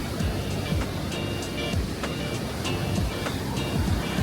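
Steady rushing water fills the clip, a continuous broadband roar of a river flowing below, near Tatopani on the Kailash route in the mountains, with faint scattered clicks and distant noise on top.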